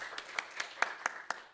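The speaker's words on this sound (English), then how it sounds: "Should we clap?" Scattered clapping at a graduation ceremony, a handful of distinct, evenly spaced claps from a small group in a room, moderately loud and without voices over them.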